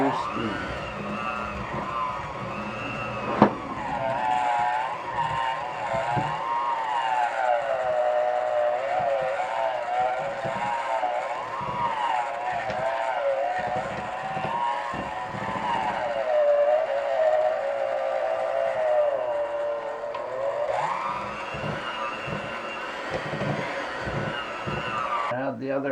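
Electric mixer running on low speed through Scottish shortbread dough as flour is added, giving a close, continuous whining motor drone with a gently wavering pitch that holds steady throughout and rises slightly near the end.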